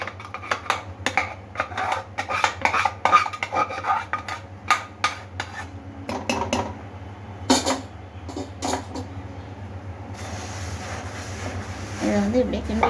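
Puffed rice being stirred into hot jaggery syrup in a pot with a flat dosa turner, giving repeated scraping, rasping strokes against the metal at close range, with a continuous low hum underneath.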